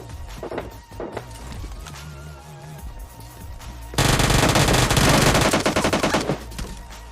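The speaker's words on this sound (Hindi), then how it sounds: "फुटस्टेप आने लग गए थे यहाँ पे" PUBG Lite gameplay with quick footsteps and scattered shots at first, then a dense loud burst of automatic gunfire that dominates the last few seconds.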